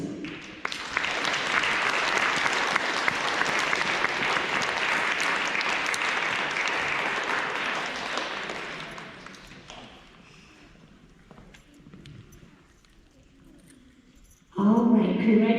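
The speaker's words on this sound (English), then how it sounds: "everybody, one more round of applause, get your prize" School audience at a K-2 awards ceremony gives a loud, sustained round of applause for award winners, fading after about nine seconds into quieter murmur and rustling before a voice speaks at the end.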